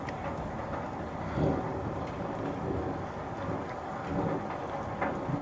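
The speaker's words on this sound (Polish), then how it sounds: "Na razie takie ciche grzmoty." Quiet thunder rumbles at the start of a storm, under a steady wash of heavy rain, with a few soft swells of low rolling noise.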